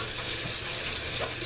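Faucet water runs steadily into a kitchen sink while it is rinsed out, a constant close hiss and splash with no pauses.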